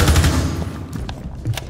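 Gunfire in Rainbow Six Siege on console: a dense burst of rapid shots at the start, then scattered sharp reports and a later flurry, loud and close with no talk over them.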